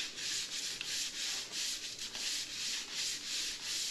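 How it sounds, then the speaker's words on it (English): Sandpaper rubs over joint compound on an outside plaster corner with no corner bead, a close, steady scratchy rasp in repeated back-and-forth strokes with no talking. "sand the compound and make sure I'm real nice 90-degree edge on there"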